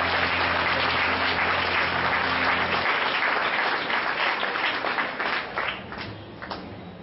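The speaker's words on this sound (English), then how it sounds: "Please give them a loud round of applause." A large audience at a school dance and theatre show gives a loud, sustained round of applause. A low hum sits underneath at first, then the clapping thins and fades toward the end.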